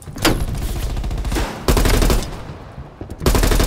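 Gunfire in the video game Call of Duty: Black Ops Cold War, with dense rapid bursts of shots in three loud clusters separated by short gaps.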